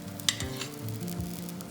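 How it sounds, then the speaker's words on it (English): Close, crackling sizzle of chicken frying in a hot pan, steady and soft with a few sharper pops and faint stirring. "Is this sizzling? Yes."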